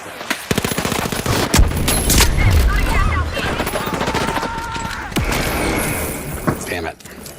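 Dense SMG gunfire in the shooter ARC Raiders, rapid bursts crackling over a busy mix of game effects, mechanical clatter and chirps, loud and continuous throughout with brief sharper impacts.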